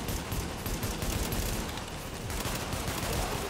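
Sustained, dense automatic gunfire from The Division video game, fired at an enemy tank, forms a loud continuous barrage of rapid shots and explosions throughout, with no talking over it.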